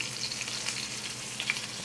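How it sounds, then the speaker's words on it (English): Breaded fish for tacos fries in a pan toward golden brown, a continuous crackling sizzle with small pops scattered through it. "Frying them up till they get a little golden brown on each side."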